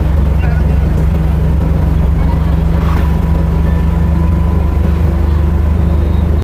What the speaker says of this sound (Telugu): ట్రాఫిక్ చూడండి ఎంత ఘోరంగా ఉందో ట్రాఫిక్.